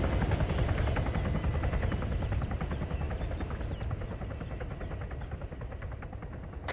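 A helicopter in a Sudan campaign video game gives a loud, steady rotor chop with a dense, rumbling engine roar that holds continuously from start to finish.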